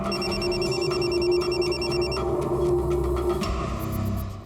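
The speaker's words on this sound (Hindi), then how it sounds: "सर मुझे अभी कांता का फोन आया था" A telephone rings with a repeated warbling electronic trill, loud and close, for a couple of seconds before falling quiet amid background noise.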